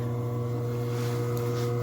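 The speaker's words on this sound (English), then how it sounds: "the motor is fairly quiet, not a problem" An electric VEVOR commercial meat slicer with a carbon steel blade runs steadily, its motor giving a low, even hum with faint whirring from the turning blade, close by and continuous throughout.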